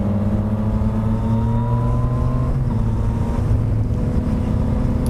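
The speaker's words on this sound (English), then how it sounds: "I think this is a 3-cylinder engine, but the note on it is very crisp and clean" A Yamaha FZ-09 three-cylinder motorcycle engine drones loud and close with a steady exhaust note, its tone rising gradually as it pulls along without pause.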